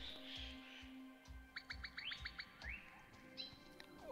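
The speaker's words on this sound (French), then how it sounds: "J'ai entendu des oiseaux." Birds in the video game Avatar: Frontiers of Pandora chirp in quick runs of bright repeated notes and a few rising whistles over a quiet low hum, fairly faint, with no voices.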